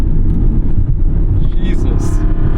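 A 2009 Aston Martin V8 Vantage's naturally aspirated V8 runs with a loud, deep rumbling burble up close, a short rising whine near the end.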